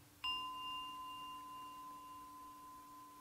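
A meditation bell is struck once and rings out with a clear, pure tone that sustains and slowly fades over several seconds in a quiet setting.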